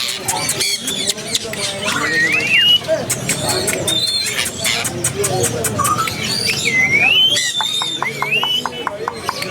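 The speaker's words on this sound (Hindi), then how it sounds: "ये बोलने वाला तोता और है।" A busy Sunday bird market where a talking parrot is offered for sale, with dense chirps, whistles and squawks from many caged birds mixed under ongoing conversation.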